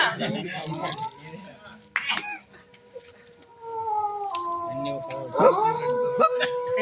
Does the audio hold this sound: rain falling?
no